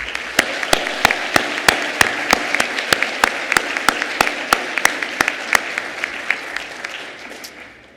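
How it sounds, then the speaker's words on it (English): An audience at an awards luncheon claps in a steady, rhythmic unison beat over a dense bed of broader applause, sustained and fairly loud for the whole stretch before fading slightly at the end. "One more round of applause for both of them."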